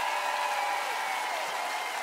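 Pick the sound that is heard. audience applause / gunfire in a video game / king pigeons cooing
audience applause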